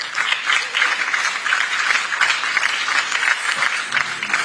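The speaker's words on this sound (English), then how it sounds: "walk her back with music and a louder hand clap" An audience claps loudly at an award ceremony honoring teachers, a continuous, crisp patter of many hands that stays even and close throughout, with no speech over it.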